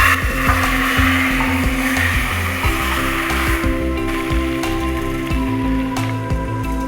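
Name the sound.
round red chillies sizzling in hot oil for lentil tempering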